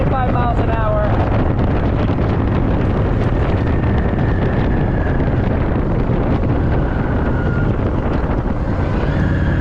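Steady, loud wind roar buffets the microphone throughout while riding a 2022 Honda Rebel 1100 cruiser motorcycle at 45 mph, with engine rumble underneath and a faint whine rising and falling.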